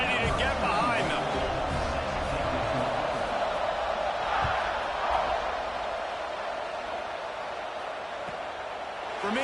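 A stadium crowd at a college football game roars steadily around a kickoff, a broad sustained wash of cheering heard from within the stands, with an announcer talking over it.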